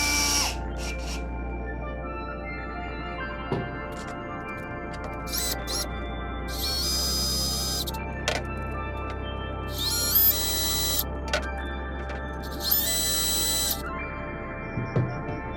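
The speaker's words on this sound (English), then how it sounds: "the screw can be screwed directly into the PETG or PLA plastic, almost like a self-tapping screw" A power driver sinks long 30mm screws straight into 3D-printed PETG or PLA plastic, self-tapping through the part, with several short whirring bursts and pauses against a steady background hum.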